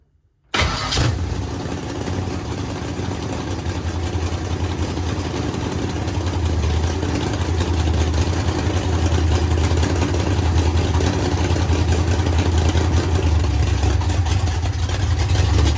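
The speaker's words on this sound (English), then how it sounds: "So I'm gonna get her fired up, get some of this sucked into the engine, and see how she holds up." The engine of a Midwest Mod car cranks and fires up cold after sitting a couple of weeks, then settles into a loud, steady rumbling idle that grows slightly stronger as it runs.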